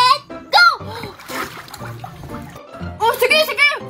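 Kids dive into an ice-filled swimming pool, sending up bursts of splashing, with excited children's voices shouting and laughing close by throughout.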